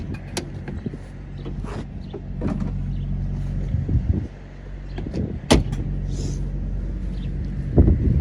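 Engine lid of a 1990 Porsche 964 Carrera 2 Cabriolet being opened, heard as a few sharp latch clicks and light thumps, including one loud snap midway, over a steady low background rumble.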